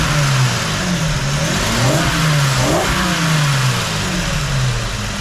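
Car engine fitted with a rebuilt Rochester 2G carburetor, revving up and down in a steady loud rumble, rising and falling pitch across several throttle blips with no talk.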